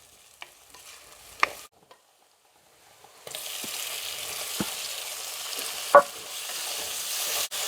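Tomatoes frying with curry leaves in a pan for a fish curry, a steady sizzle with scraping stirs and a few sharp utensil clinks near the end, after a quieter start.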